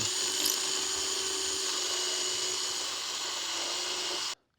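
A power drill whines steadily at close range for about four seconds while drilling a screw pocket into wood, then cuts off abruptly.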